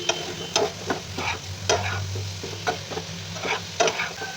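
A spoon scrapes and stirs prawn curry with ash gourd in a pan. Low sizzling runs underneath a series of close, sharp strokes at an uneven rhythm, with no talk.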